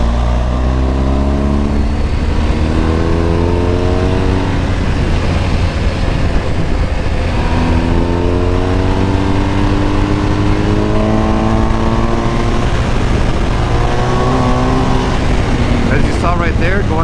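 Motorcycle engine on a track ride, droning steadily as the throttle rolls off to tip into a turn and then opens back up, pitch dipping and rising again in repeated sweeps, loud and close with wind roar throughout.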